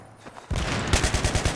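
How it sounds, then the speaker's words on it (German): A rapid burst of gunfire from a PKP machine gun in the video game Battlefield 3 lands a headshot. Sharp, loud shots follow in quick rhythmic succession after a brief quiet start. "Kopfschuss."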